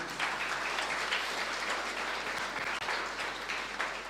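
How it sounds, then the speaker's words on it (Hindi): A church congregation applauds during a Hindi-language worship service, a steady, dense wash of clapping from many hands that fills the room evenly for several seconds without pause. "प्रभु के लिए ताली बजाएंगे।"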